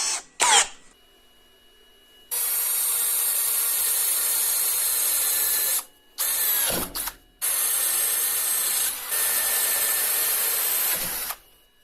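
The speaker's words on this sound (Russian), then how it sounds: "Сверлить буду сверлышком на 6." A power drill with a 6 mm bit bores holes, whining steadily in long sustained runs broken by short pauses and a brief shift in pitch, loud and close with no talking.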